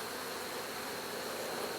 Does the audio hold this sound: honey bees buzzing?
yes